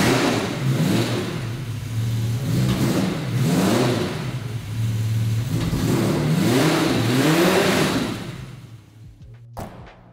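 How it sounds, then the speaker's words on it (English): Fully restored gunmetal grey Jaguar E-Type Series 3 with a fuel-injected V12 engine revving repeatedly, several rising and falling throttle blips over a steady idle, close and clear, settling down at the end. "with the fuel injection, sounds fantastic on fire up and also sounds fantastic when rolling"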